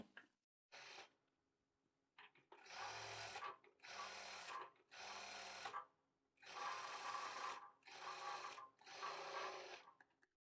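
A sewing machine stitches a blouse in several separate bursts of rapid, even needle clatter, loud and close, with short quiet pauses between runs.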